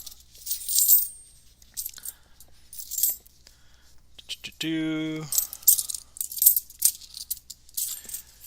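Coins clink and jingle in several bursts as they are handled and dropped during a magic livestream, with a brief tonal hum in the middle and quiet gaps between.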